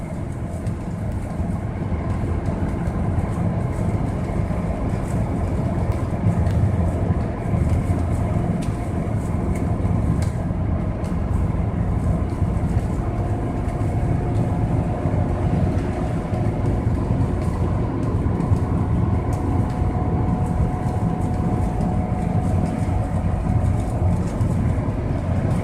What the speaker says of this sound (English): That old 5-cylinder turbo diesel, they just don't build them like that anymore.